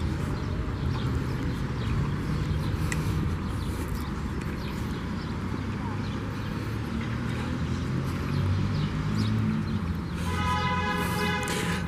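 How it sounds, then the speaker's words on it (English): An old tram streetcar rolls through a street in Iași, Romania, producing a steady, loud rumble of wheels and rails that holds throughout, with a bright metallic squeal rising near the end. "There's an old school tram."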